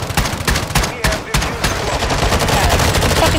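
Rapid shotgun blasts in a first-person shooter match ring out loud and close, several booming shots in quick succession filling the moment, with game sounds layered around them.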